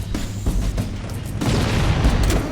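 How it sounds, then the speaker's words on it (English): Deep booming blasts from a reactor explosion in Halo CE on The Maw, a few heavy thuds followed by a swelling rumble of detonations, no voices. "trigger a wildcat explosion of the engines"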